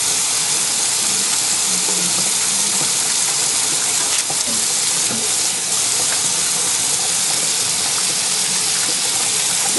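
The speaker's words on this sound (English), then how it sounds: "Hot water." Hot water runs steadily from a tap over hands with a constant hissing gush, close and fairly loud, with faint splashing as hands move under the stream.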